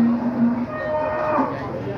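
Cattle at the Pasar Paing livestock market in Pati moo loudly and close, one long low call followed by further lowing, with faint market voices behind.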